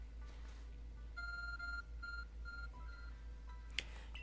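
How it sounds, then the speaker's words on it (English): Series of electronic beeps and tones from the Arc Phone in the Pokemon Legends: Arceus video game, a steady run of short pitched chimes over a low background hum, ending with a brief sharp click. "Your arc phone is beeping."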